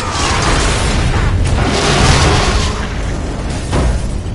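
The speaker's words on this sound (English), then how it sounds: "Possible laboratory break-in confirmed by big explosion" A big explosion during a laboratory break-in in Lego Marvel Super Heroes, a loud sustained rumbling roar with booming bursts throughout, dense and close with no talk.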